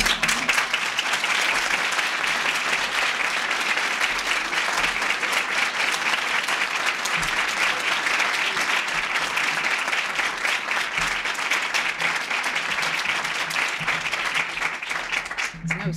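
Sustained, loud applause from a large audience at a swearing-in ceremony, steady dense clapping that holds evenly without a break.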